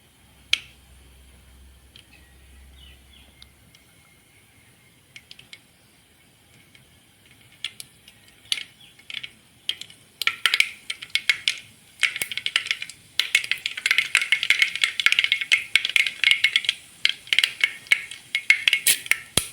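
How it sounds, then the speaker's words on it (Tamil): Mustard seeds splutter in hot oil, starting with sparse pops and quickly building into a dense, crackling burst of sharp snaps close by. "கடுகு போட்டு கடுகு நல்லா பொரியட்டும்"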